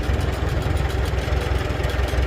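A Farmall Super C tractor engine with a slight dirty-fuel issue idles low and steady, a continuous close, throbbing rumble with an even pulse throughout.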